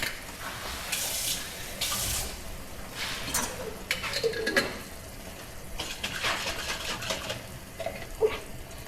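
A kitchen tap runs in a home kitchen during preparation of Cajun shrimp fettuccine, with several bursts of splashing water separated by brief pauses, some clinks of cookware, and a few quiet handling noises.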